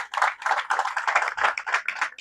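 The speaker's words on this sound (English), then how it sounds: "let's give them a big round of applause" A convention audience claps for a sponsor, a short run of close, uneven hand claps in bursts, without speech.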